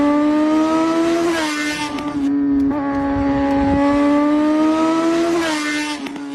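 A car engine revs hard and high, the pitch climbing, dropping back, then surging again as it accelerates with faint tyre squeal, loud and close throughout without any voices.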